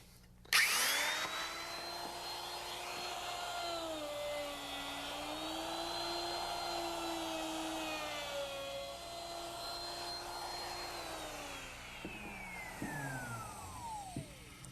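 A router fitted with a half-inch roundover bit and half-inch bearing shaping a wooden chair leg: a high motor whine spins up, holds a steady cutting drone for about eleven seconds, then winds down, heard close and alone.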